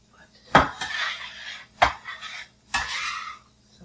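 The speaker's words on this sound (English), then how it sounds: "all I'm doing is sauteing it" Vegetables for a mirepoix, going into baked tofu, sautéed in a pan: three bursts of spoon scraping and clattering against the pan, with a light sizzle between, close and alone.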